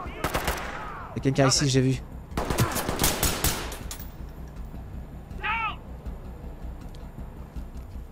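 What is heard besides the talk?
gunfire in video game Ready Or Not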